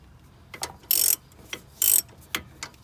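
Ratchet clicking while loosening a sway bar link nut on a 2010 Kia Forte, close and sharp, in short bursts of rapid clicks separated by brief pauses.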